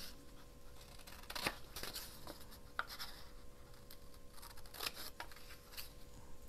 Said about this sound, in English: I'm just going to cut along the rope here.